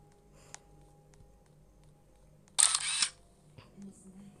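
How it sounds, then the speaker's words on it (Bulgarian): A single camera shutter snaps in Roblox Brookhaven, a short bright click-and-whir burst standing out over a faint game background hum, with quiet ambient sounds before and after. "Чакайте да му направя една снимка с фотоапарата."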